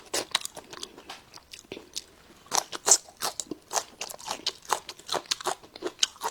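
Raw wild scallions crunched in repeated bites, crisp snapping crunches and chewing close to the ear, alone with no talk.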